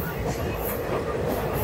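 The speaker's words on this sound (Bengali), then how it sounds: "রাজগোদা স্টেশন ক্রস করছে আমাদের ট্রেন।" Onboard a Digha special passenger train from Santragachi as it runs through Rajgoda station, a brief burst of dense rumbling wheel noise and rail clatter, loud and close.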